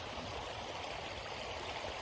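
A natural stream flows steadily and close by, an even, unbroken rush of water with no voices over it.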